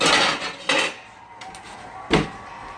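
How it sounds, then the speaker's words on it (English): A lid set onto a cooking pot of simmering beef on low heat, giving a few sharp metallic clanks and taps against a quiet kitchen background. "I'm going to put this on a low heat and put my lid on it"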